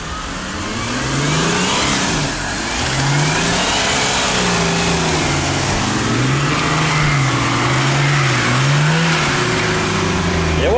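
An off-road vehicle on mud-terrain tires revs hard while stuck on a muddy hill, its engine rising and falling in repeated surges, loud and close, with no talk over it.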